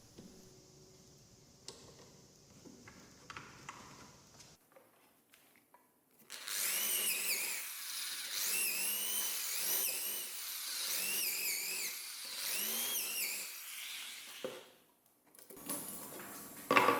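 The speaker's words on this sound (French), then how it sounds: "Et on peut percer sans réfléchir." A drill bores through a workpiece guided by a jig, part of building a bandsaw stand: quiet handling sounds first, then a whining drill that rises and falls in pitch across several bursts, stopping near the end.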